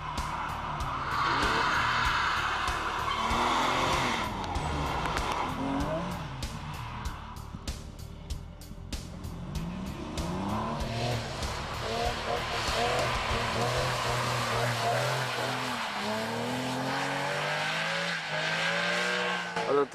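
A Porsche 911 GT3 spins on a race circuit. Tires squeal and skid over a revving engine, loud and sustained, with speech over parts of it.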